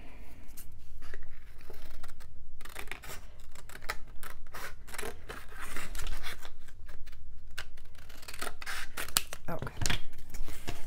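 Scissors snip through paper for a handmade Christmas mini album, a series of close, crisp cuts and rustles with pauses between them, while someone speaks now and then over the work.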